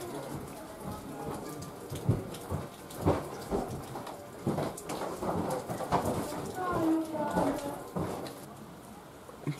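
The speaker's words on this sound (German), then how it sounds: "Ich glaube, man kann es halt hören, aber es regnet." Rain falls steadily with rumbles of thunder in Austria, while people talk over it in the foreground.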